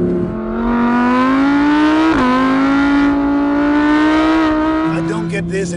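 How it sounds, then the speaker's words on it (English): An Audi R8's high-revving V10 engine accelerates hard up through the revs, a loud, sustained, rising wail with a brief dip near the middle as it shifts, easing off at the end. "is the high revving V10 engine"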